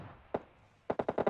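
Gunfire from PUBG Mobile: one isolated shot, then after a pause a quick burst of five rapid shots, moderately distant and fairly clean without talk over them.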